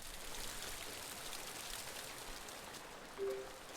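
Rain falling in the video game Kynseed, a steady, even hiss of rainfall that continues without a break.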